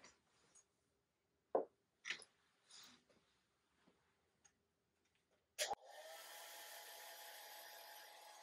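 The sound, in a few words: hair dryer drying a watercolor painting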